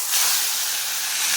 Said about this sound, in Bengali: এর মধ্যে আমি দিয়ে দিচ্ছি কচু শাকগুলো